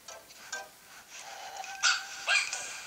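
A cartoon dog in the Nintendogs + Cats video game gives a few short, high barks and yips, spaced irregularly and fairly clear against a quiet background.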